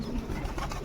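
Pigeons feeding on scattered grain make a brief, close cooing sound over soft background noise, lasting under a second.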